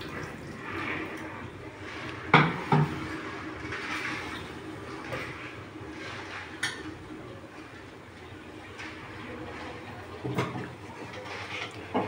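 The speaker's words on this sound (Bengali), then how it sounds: "চাল ধুচ্ছি, ভালো করে চাল ধুতে হবে।" Rice being washed in a pot: quiet sloshing and splashing of water, with a few sharper clinks and swishes breaking up a soft, steady background.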